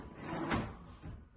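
An easy-shut kitchen drawer closes in a home kitchen, giving a single soft, muffled slide and thud, close by with no talk.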